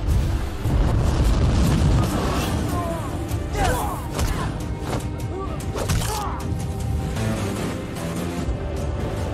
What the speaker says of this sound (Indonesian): Roni sendiri mencuri senjata lalu menghancurkan pos pemeriksaan Abu Jalal.